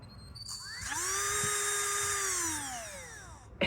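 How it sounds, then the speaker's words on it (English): A salvaged electric drill motor, freshly hooked up, whirs to life with a rising high-pitched whine, holds a steady spin for a couple of seconds, then winds down as it stops. "Hey, 2 working motors over here."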